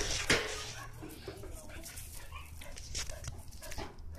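A hound dog whimpers and yips in short, uneven bursts, fairly faint against a hissy background, with a few sharper barks mixed in.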